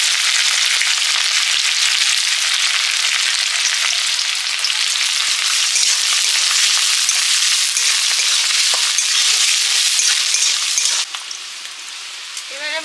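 Whole spices such as bay leaf and garam masala fry in hot oil in a pan, giving a loud, steady, close sizzle that runs unbroken and eases slightly toward the end.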